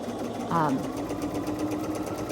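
A sewing machine stitching quilt block pieces, a steady close mechanical hum with a rapid fine stitching rhythm running throughout, and a short voice heard briefly early on.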